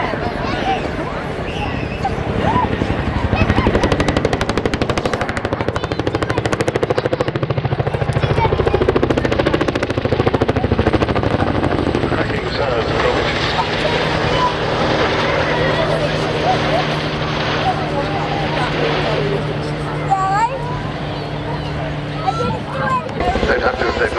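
An RAF Chinook twin-rotor helicopter flies an airshow display at Cosford, its loud, continuous rotor and engine roar steady throughout, with a commentator talking over it.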